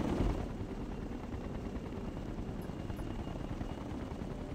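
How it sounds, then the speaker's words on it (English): Hostile helicopters in the video game Ghost Recon Future Soldier, a steady, dense rotor rumble holding throughout at a constant level, with possible gunfire mixed in. "You've got hostile choppers inbound on your position."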